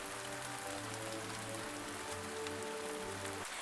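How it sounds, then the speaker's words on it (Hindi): Steady rain falls on a surface, a dense, even patter that holds at a constant low level under faint background music, with no voices. "एक दिन बारिश हो रही थी।"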